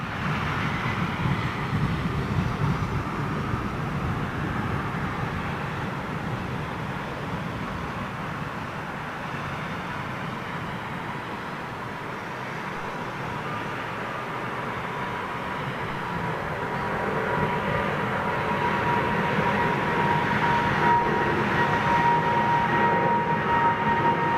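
A Boeing 777 jet takes off, its broad engine roar sustained and rumbling for the whole stretch, easing slightly midway and then swelling louder toward the end as the thrust builds, with no talking.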